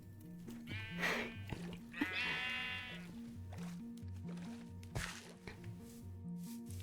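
Sheep in the video game Minecraft give a couple of clear, close bleats over looping background music, with a soft thwack in between.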